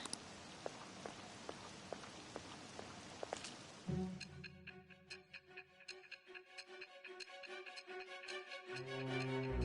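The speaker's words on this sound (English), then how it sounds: "This rain ain't too bad." Steady patter of rain with scattered drips in Persona 5 Royal for a few seconds, then the hiss drops away and tonal game music takes over, the rain fainter underneath.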